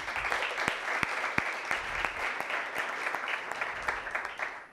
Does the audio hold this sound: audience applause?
yes